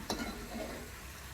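Sprouted fava beans sauté in a pan with garlic and butter, giving a steady close sizzle with a brief stirring scrape at the start, no voices.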